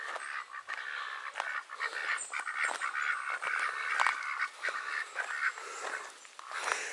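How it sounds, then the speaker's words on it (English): Farmyard-type ducks at a Devon animal sanctuary and wildlife preserve quack repeatedly at close range, an irregular chorus of calls over outdoor background noise. "Hello, ducks."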